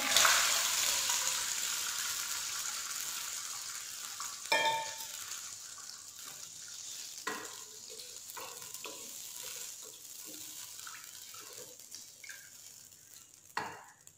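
Milk poured into a pot of cooking zarda, sweet rice, setting off a steady sizzle and bubbling that keeps going, with a few clinks and stirring knocks of a spoon against the pot and no talking.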